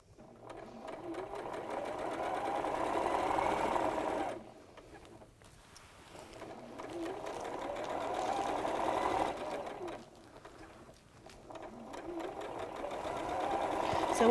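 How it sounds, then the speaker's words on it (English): A sewing machine joining sashing onto a quilt top with a quarter-inch seam runs in three long, steady whirring bursts separated by brief pauses, close and moderately loud, with faint talk in the background. "I'm just going to join that sashing onto the top"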